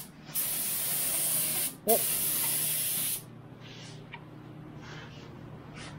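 An aerosol can sprays light coats of primer onto a Subaru Impreza in two close, loud hissing bursts with a brief gap between them, followed by quieter surroundings and a short spoken exclamation.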